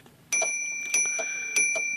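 Margin bell of an IBM Selectric typewriter dinging three times in a steady rhythm, each bright ring close and clear over a quiet room.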